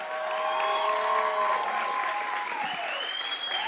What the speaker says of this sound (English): Another round of applause for Billy Munana.